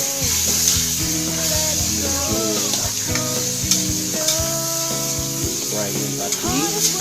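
Boneless milkfish (bangus) sisig fries in a pan, giving a continuous, fairly loud sizzle and spatter with a tonal melody running underneath.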